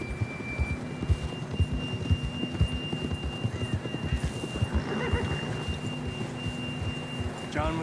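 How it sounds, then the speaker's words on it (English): Horse riding in the video game Red Dead Redemption, with rhythmic galloping hoof beats running steadily throughout, a tone sounding above them and a brief whinny-like sound midway. "John was riding that horse when we left Blackwater."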